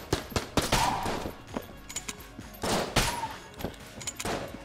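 Rapid gunfire in Enter the Gungeon, sharp repeated shots in quick bursts with brief gaps, fairly loud and without talk.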